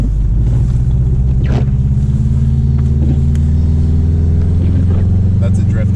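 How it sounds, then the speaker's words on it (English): A Subaru car drifts through snow, its engine giving a loud, continuous low rumble that swells and revs as it slides. Scattered voices can be heard over the engine noise. "That's a drift, Mom."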